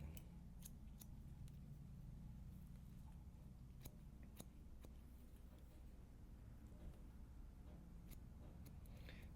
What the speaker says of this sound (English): I'm cutting hair on that side